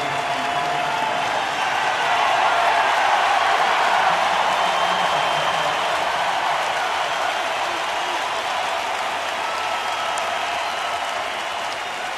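Baseball stadium crowd at a Brewers home game cheering and applauding for a player to come out, a broad, sustained roar of applause and voices filling the ballpark throughout.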